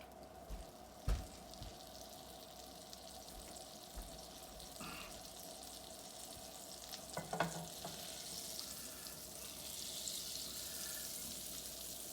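Butter melting in a hot pan while eggs are being made, giving a faint, steady sizzle with a couple of small knocks from the pan, no talking.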